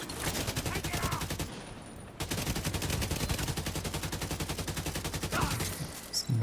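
Rapid automatic gunfire rattles almost nonstop in The Division, loud and close, with a brief pause before the bursts resume under faint background noise.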